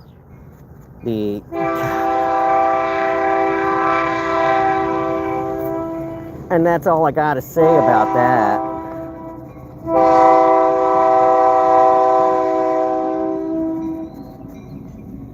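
A train horn blares in long sustained blasts as a train passes through Stephenville, Texas, with a burst of shorter honks in the middle, loud and close, and someone talks briefly near the end.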